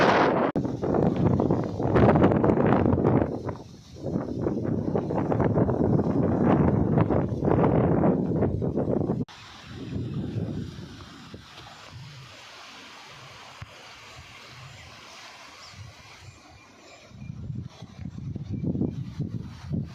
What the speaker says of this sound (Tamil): அந்த அக்னி நட்சத்திரம் முடிஞ்சோடனே காற்று எப்படி அடிக்க ஆரம்பிச்சு பார்த்தீங்களா?